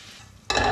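Flour whisked into melted butter for a roux: a quiet lull, then abrupt loud scraping and sizzling strokes in the pan.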